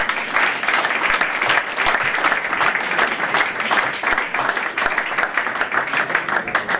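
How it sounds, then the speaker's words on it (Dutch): Hearty applause fills a hall at a Dutch futsal club's award ceremony for royal honours. Sustained, loud clapping from a large audience continues evenly throughout, with rapid overlapping hand strikes. "En ik wil daarom nog een keer een hartelijk applaus hebben."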